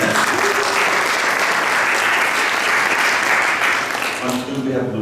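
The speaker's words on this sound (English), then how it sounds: "So let's give them a round of applause" An audience applauds musicians at a concert, loud sustained clapping that fades slightly near the end as a voice begins.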